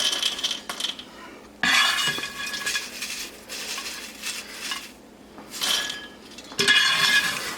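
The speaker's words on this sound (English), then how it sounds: "I like to use a scoop, kind of lets the skins fall out" A scoop digging through a bowl of fresh roasted peanuts, producing bursts of dry rattling clatter as nuts tumble and skins shake loose, separated by short quiet pauses.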